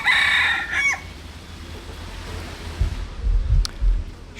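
A rooster crows loudly and close by on the bank of the Mekong in Southeast Asia, then low chicken clucks and soft thumps follow faintly over quiet outdoor ambience.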